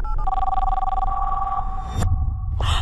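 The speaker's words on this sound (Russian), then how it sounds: "По-моему, он услышал звонок." A telephone rings after a redial in a thriller film trailer, a steady electronic tone that cuts off and resumes, heard over a low dark rumble.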